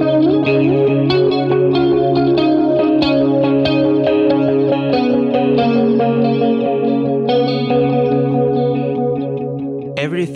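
Guitar played through a boutique PT2399 lo-fi tape delay pedal with delay time pushed to maximum, a continuous loud stream of picked notes smeared by repeating echoes and warbling wash, ending with a sharp click.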